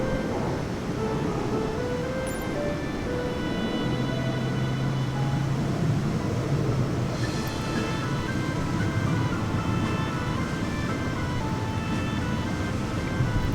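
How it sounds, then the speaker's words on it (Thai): Thai Airways airliner being pushed back in Microsoft Flight Simulator: a steady, loud engine and APU drone with a continuous hum throughout, no talking. "เครื่องบินอยู่ระหว่างถอยหลังนะครับผม"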